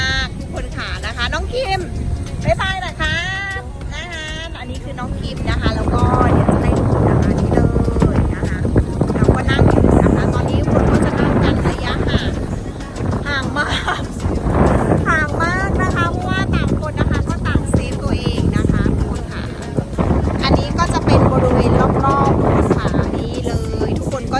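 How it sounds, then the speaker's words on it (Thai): Strong wind buffeting a microphone on Bang Saen beach in Thailand with a high tide, a steady loud roar throughout, with someone talking over it at times. "วันนี้ลมค่อนข้างแรงนะคะ"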